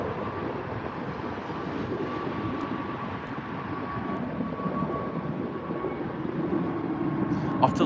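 A British Airways airliner takes off from Heathrow, bound for Lisbon, its jet roar a steady broadband rumble that holds at moderate volume throughout, with faint talk over it.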